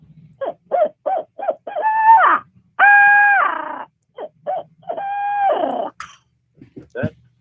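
A hunting owl call blown by hand imitates a hooting owl: a run of short hoots, then long, wavering, multi-toned hoots and a final short call. The hoots are loud, close and heard alone without talk.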